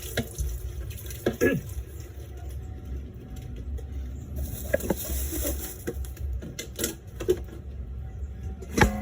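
A kitchen tap runs steadily while food is washed underneath, giving a continuous close splash with scattered knocks and clatters from handling in the sink.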